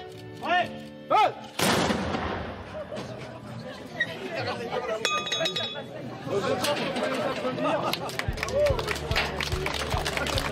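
A ceremonial artillery cannon fires one loud blast at a remembrance ceremony for the Battle of the Somme, amid crowd chatter and commotion that continues through the clip.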